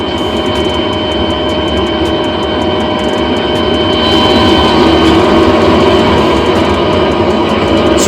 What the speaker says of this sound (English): We haven't started the engines yet. The noise is the APU,